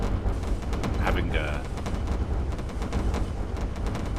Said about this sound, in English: I don't even know whether you can hear me over the sound of cannons